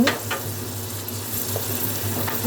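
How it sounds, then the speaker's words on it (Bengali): Dried red chillies sizzle steadily in hot oil in a kadai, a close, dense crackling hiss with a few light clinks and stirring sounds over it. "কড়াইতে তেল গরম হয়ে গেছে, তো আমি এখানে শুকনো লঙ্কা দেব"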